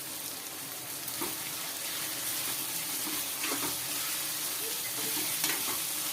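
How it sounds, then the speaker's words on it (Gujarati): Okra frying in a pan with coriander-cumin powder and chilli, stirred continuously, an even close sizzle with occasional scraping strokes of the spoon against the pan, no voices. "અને મરચું પાકી ન જાય ત્યાં સુધી આપણે આમ હલાવતા રહેશું એટલે આપણો ભીંડો તળિયે સોટે નહીં"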